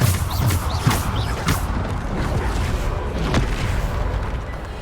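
Bombarda blasting spell in the game Hogwarts Legacy, a run of heavy booming blasts with crashing impacts and rumbling debris, several bursts in quick succession, loud and close.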